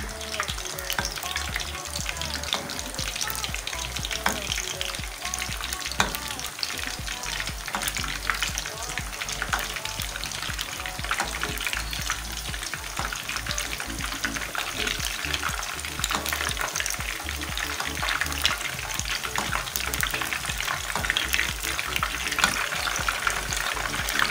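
Nargisi kofta, egg koftas, frying in oil, a continuous bright sizzle with crackling pops that stays even and steady throughout, close and moderately loud, with no talking.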